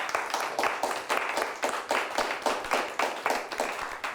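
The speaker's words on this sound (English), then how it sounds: "Let's give them both a nice round of applause." Studio audience applause for two high school teams at the end of a televised quiz show, a steady run of distinct claps from a small group, fairly close and continuous for several seconds.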